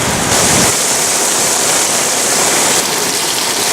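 Heavy rain from Tropical Storm Debby pours down in a dense, loud, continuous hiss close to the microphone, with a brief surge near the start.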